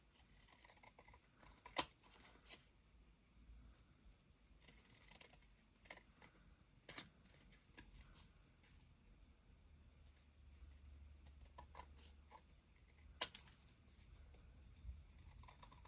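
Scissors snip paper for an airmail craft folio in a quiet room, with a few sharp, isolated cuts spaced seconds apart and faint handling rustle between them.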